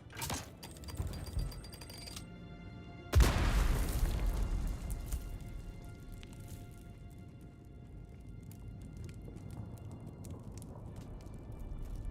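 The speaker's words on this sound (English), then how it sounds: "That's a bomb." A video-game bomb goes off with a sudden loud boom partway through, its rumble decaying slowly into a low, steady background of game ambience.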